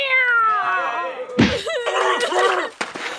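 A cat lets out a long descending yowl, then a sharp thud or smack follows and the cat cries out again in a strained, wavering caterwaul, close and loud, with a scuffle and another knock near the end.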